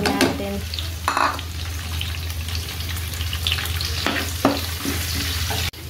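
Garlic and onion sizzle and crackle in hot oil in a pan for homemade pizza sauce, a steady close frying hiss broken by clinks and stirring scrapes, with no talking.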